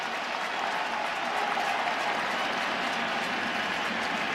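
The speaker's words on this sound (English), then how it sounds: "Crowd urges him on as he deals 0-2" Baseball crowd at a Blue Jays–Yankees playoff game cheering on the pitcher as he delivers with two strikes, a dense, steady roar with scattered clapping filling the whole stretch.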